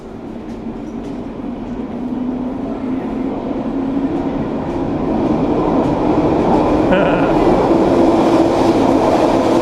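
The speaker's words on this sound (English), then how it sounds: "Train is just heading out right now." A Vancouver SkyTrain metro train pulls out of Chinatown Station with a steady rising rumble and rolling wheel noise that swells and grows louder over several seconds, heard from the platform.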